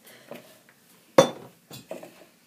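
Slime ingredients, hand lotion and foaming hand soap, get mixed in a bowl with a utensil, giving a few scattered clinks and scrapes, one sharper knock standing out amid quiet pauses.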